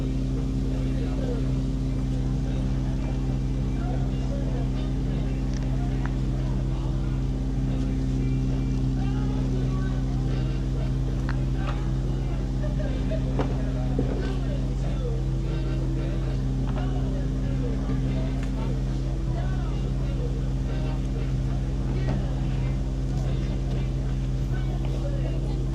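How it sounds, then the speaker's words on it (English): A boat engine drones steadily on the water at a stand-up paddle race on the Italian coast, a continuous low hum with wind noise, while people talk over it. "We are currently on the boat."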